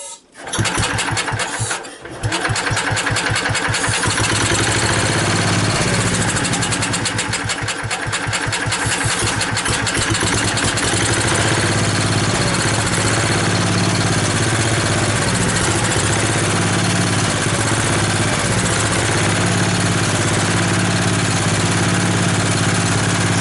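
A 1964 David Bradley 725 small engine catches after a brief start and settles into a steady, buzzing idle that runs loud and continuous, with a faint voice briefly underneath.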